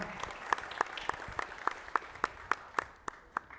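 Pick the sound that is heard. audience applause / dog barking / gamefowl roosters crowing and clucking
audience applause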